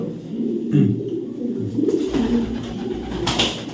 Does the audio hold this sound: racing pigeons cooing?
yes